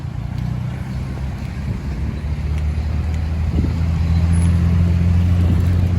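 Steady road traffic rumbles in Davao City near an ongoing flyover construction project, a continuous low drone of engines that grows slightly louder over time, with wind buffeting the microphone.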